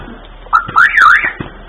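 A Sheriff 1070 car alarm gives a short electronic chirp, a quick rising and falling warble lasting about a second, loud and close.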